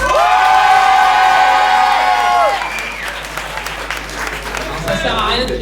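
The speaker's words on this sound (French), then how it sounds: "Allez, on va le faire à l'applaudissement." Sustained improv-festival audience applause in Toulouse fills the space during a vote, mixed with shouts and cheering from the crowd.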